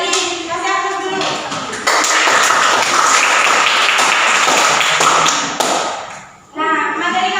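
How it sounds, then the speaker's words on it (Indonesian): Classroom applause during a micro-teaching lesson, a dense burst of clapping from students that starts abruptly and runs loud for about five seconds before fading, with the teacher speaking briefly before and after. "Kasih aplaus dulu."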